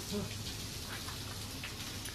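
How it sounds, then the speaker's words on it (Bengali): Rain falls steadily outside in a soft, even hiss that stays faint and continuous throughout. "বুঝছো বৃষ্টি হয়েই যাচ্ছে।"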